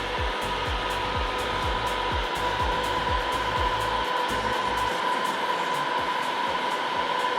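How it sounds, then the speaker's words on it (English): A heat gun set to 600 degrees heats vinyl wrap on a van panel, giving a loud, steady blowing roar with a constant hum, close and uninterrupted, with faint thumps in the background. "Got the gun set at 600 degrees."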